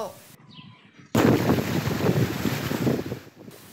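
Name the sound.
strong wind from Cyclone Remal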